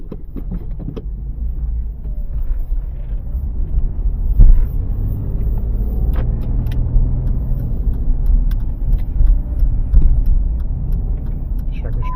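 A Jeep Liberty's engine runs with a steady low rumble, loud and close from inside the vehicle, with a few clicks and knocks over the drone and a person speaking briefly.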